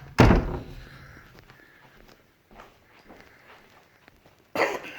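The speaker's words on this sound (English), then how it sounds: "Doors are opening and closing." Interior doors in a second-floor home being opened and shut during a walkthrough: a loud thunk at the start, faint shuffling and footsteps in a quiet room, then another sharp knock near the end.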